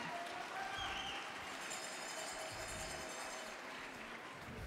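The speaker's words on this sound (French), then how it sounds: "on vous applaudit" An audience at a French cooking contest applauds as a cheesemaker contestant is introduced. Steady, moderately distant clapping continues throughout, with a faint murmur of the crowd.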